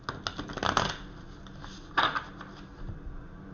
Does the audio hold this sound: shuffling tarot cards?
yes